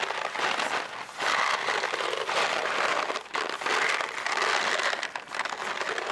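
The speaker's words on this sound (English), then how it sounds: "No, it's just deluxe mac and cheese." A deluxe mac and cheese package is crinkled and handled up close, giving dense, continuous crackling with brief dips and no speech.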